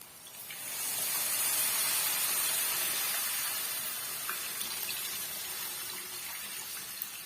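Water runs and splashes steadily as tamarind is squeezed and dissolved in water for a village-style dried-fish curry, a continuous close wash of sound without talk.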